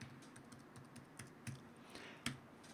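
Keys clatter on a computer keyboard as a file is named and saved, a run of light, uneven taps with a few sharper strokes, close and quiet with no talking.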